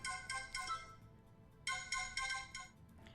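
A phone ringing with an incoming call, a repeating electronic ringtone of bright chiming tones in two bursts separated by a short gap, moderately faint and alone.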